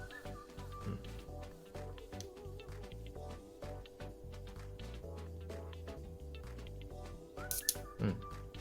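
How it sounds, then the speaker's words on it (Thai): The shutter of a Canon Demi EE17 half-frame film camera is held down while its oil-gummed, sluggish mechanism makes close, faint clicks and soft mechanical ticks, with handling noise throughout. "อันนี้ผมกดชัตเตอร์ค้างไว้นะครับ"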